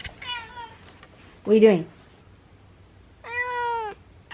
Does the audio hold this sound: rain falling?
no